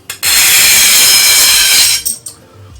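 A 15mm tube is sawn to length in about two seconds of loud, steady, rasping cutting strokes that stop abruptly, followed by a few brief clunks.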